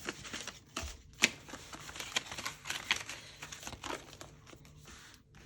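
Paper cash bills being handled and counted into budget envelopes, soft close crinkles and rustling flicks with a few sharper snaps, quiet and without talk.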